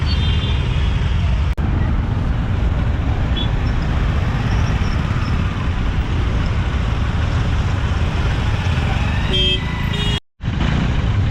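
A traffic jam on a bridge in Dehradun: a dense, continuous rumble of idling and creeping engines and road noise close by, with a brief horn-like tone near the end.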